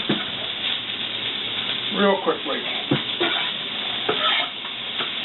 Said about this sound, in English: So now I've got that frying up in my frying pan.